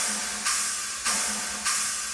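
Washy, hissing cymbal crashes repeat three times at a steady pace, each decaying into a bright noisy wash, with no other instruments or voices.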